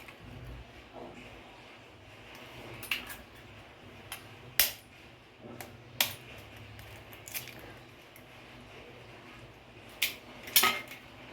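A utensil works a pancake batter of flour, vegetables, milk and egg in a bowl, with scattered sharp clinks against the rim over quiet, soft squishing.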